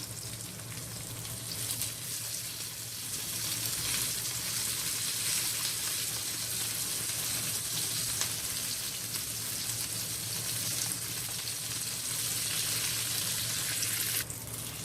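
Crab pieces frying in a pan give a steady, dense sizzle that holds nearly unchanged throughout, close and fairly quiet, with no voices.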